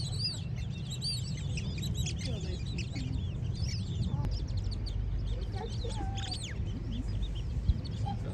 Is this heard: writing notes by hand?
no